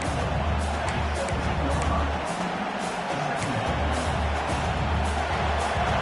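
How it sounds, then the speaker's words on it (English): A college football video game stadium crowd roars and cheers steadily through the whole stretch, a loud sustained wash of crowd noise with a low rumble that briefly dips midway. "This crowd knows when to bring it."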